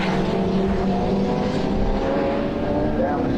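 Ford Sierra classic touring car racing at Snetterton, a sustained roaring engine note held steady and loud throughout, with faint commentary talk mixed underneath.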